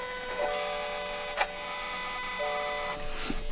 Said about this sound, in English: You should be able to hear that fuel pump.